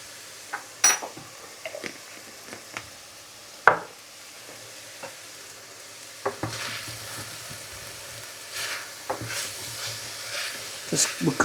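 Chicken cooks in a pan with a teaspoon of Spanish supermarket curry powder, giving a soft sizzle with scattered stirring scrapes and clinks that build into steadier frying, and faint voice sounds underneath.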